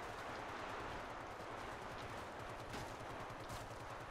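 Rapid automatic gunfire from a shooter video game, with dense, continuous bursts of rattling shots filling the whole stretch at a steady, fairly loud level and no speech over it.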